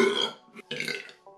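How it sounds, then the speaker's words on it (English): A loud, throaty burp after drinking foamy soda, starting strong and then breaking into a second gurgling burst before trailing off, up close and alone. "It's like those curdled burps."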